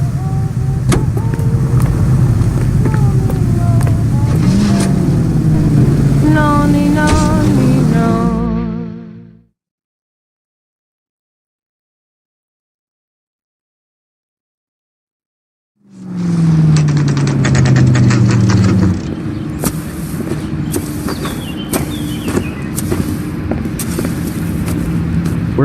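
A car engine in L.A. Noire hums and shifts pitch as the vehicle drives, steady and close, cutting out to total silence for several seconds, then returning with the engine revving back up.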